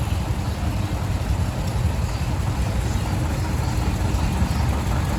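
A John Deere 730 diesel tractor with flat top fenders and a wide front end idles at a classic tractor show, a steady, close low rumble that holds even throughout with no speech.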